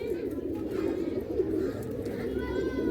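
Andhra line pied-breasted pigeons of the Pilanka line coo steadily in a home loft in Behala, a dense, continuous low murmur from several birds close by, with faint voices in the background.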